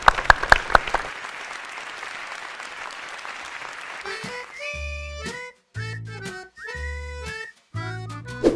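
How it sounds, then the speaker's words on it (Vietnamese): A studio audience on a Vietnamese in-law dating game show bursts into brief, loud applause for mother Yến, the clapping fading into a broad crowd wash before upbeat stage music takes over. "Một tràng pháo tay cổ vũ cho mẹ Yến."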